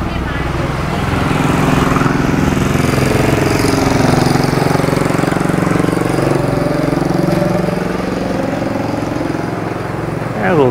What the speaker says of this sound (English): let this motorcycle get by me.